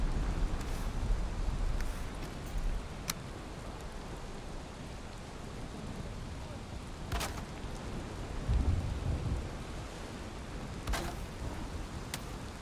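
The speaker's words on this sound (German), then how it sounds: "Es regnet halt trotzdem rein." Steady rain pours in the Valheim video game, a soft continuous hiss with occasional sharp drips, while low thunder rumbles faintly in the distance a couple of times.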